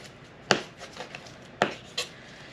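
Knife slicing through the fatty point of a brisket during trimming, giving a few sharp separate cuts and scrapes, close and fairly quiet with gaps between strokes.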